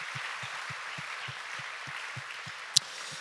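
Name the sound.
applause for the new family members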